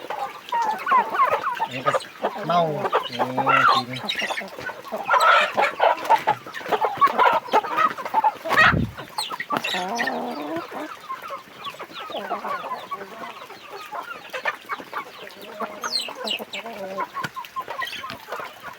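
Fighting cock roosters on a farm cluck and call repeatedly nearby, mixed in with someone talking over them and a brief loud thump midway.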